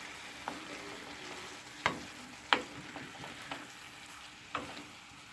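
Ackee and saltfish being stirred in a hot pan: a quiet, continuous frying sizzle broken by several distinct scrapes and clinks of the spoon, with no speech.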